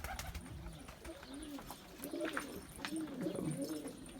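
Posta-breed pigeons in a backyard coop coo softly in repeated low rounds, close by, with faint bird chirps around them.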